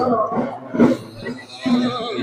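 A horse in a temple procession with bullock carts at Chitradurga's Sri Murugha Math gives a short whinny amid close talk and crowd noise.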